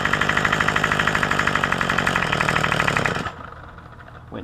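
A Craftsman string trimmer's small two-stroke engine idles high during carburetor tuning, a loud rapid buzzing putter close by that drops abruptly to a lower, quieter idle near the end.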